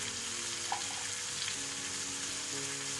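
Tomatoes and onions frying hard over a high flame for paneer tikka masala, a dense even sizzle running throughout, close and steady, with faint stirring clicks.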